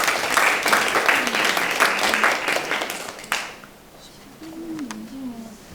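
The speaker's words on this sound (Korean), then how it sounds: "큰 박수 부탁드리겠습니다." Audience applause at a policy discussion forum on pet culture, a burst of clapping that fades out after about three seconds, followed by quiet room tone and a faint voice.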